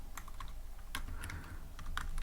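Quick, light typing on a computer keyboard during a Python coding session, the key clicks close and crisp in irregular bursts over a quiet room, with no talking.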